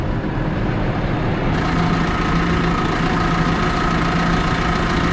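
A 2018 farm tractor's diesel engine idles steadily close by, a low continuous rumble with a faint knocking texture and a steady hum, with no voices.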